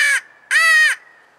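A Faulk's crow call blown plainly with no technique gives two flat, buzzy honks, a short one then a longer one, loud and close with a faint drone between them and no caw-like break.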